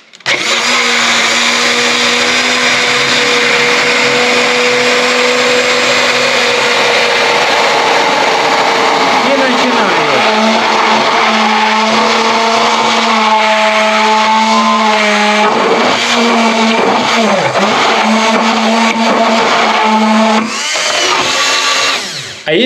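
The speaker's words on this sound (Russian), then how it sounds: "Я просто включаю блендер." An immersion blender whirs loudly and continuously, emulsifying egg yolks into mayonnaise, its motor pitch dipping and wavering partway through as the blade works the thickening mixture, with no talk over it.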